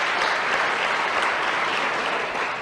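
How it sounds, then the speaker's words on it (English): Sustained audience applause fills a free speech debate hall, a dense, steady wash of clapping at close range that holds evenly throughout with no voices over it. "I'm glad that you applaud"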